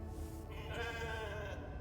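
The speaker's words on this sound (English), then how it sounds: "Always pet the sheep." A sheep in the video game The Alters bleats once, a short wavering bleat heard clearly at moderate volume over a low background hum, with no talking.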